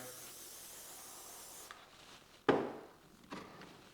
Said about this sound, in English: spray it with some of the hairspray